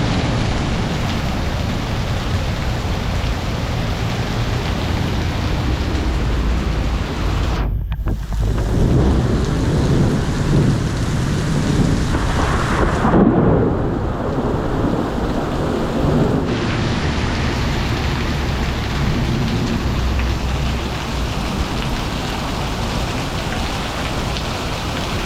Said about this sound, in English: Found the safest place behind a pillar, watching this crazy storm.